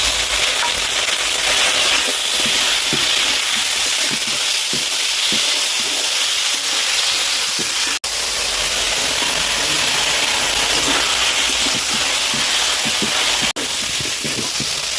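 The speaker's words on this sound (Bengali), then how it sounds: "তো মশলাওয়ালা ভাজা হয়ে গেছে ভালোভাবে" Spice paste of salt, turmeric, ginger-garlic paste and green chilli paste fries in a pan for a silver fish curry, a steady loud sizzle with occasional stirring clicks throughout, no voices.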